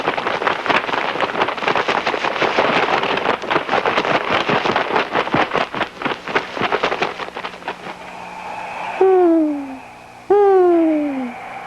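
An owl in a storytime sound effect: after a stretch of rough wind-like rumble, two loud, descending hoots ring out, close and clear, spaced about a second apart.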